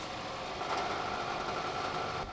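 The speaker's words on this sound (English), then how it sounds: "you can hear that even after the repair, the exhaust sound is really loud" Loud rattly car exhaust after a repair, heard as a steady, fairly faint engine drone with a buzzing rattle, continuous and without voices.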